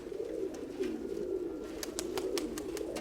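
Outdoor pigeons keep up a continuous low cooing, soft and rolling, joined by a few short high chirps toward the end; no voices.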